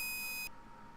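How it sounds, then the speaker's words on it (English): A steady electronic beep from the video game The Legend of Kyrandia holds for about half a second, then cuts off sharply, leaving a quiet background. "That weird beep noise you get because of that."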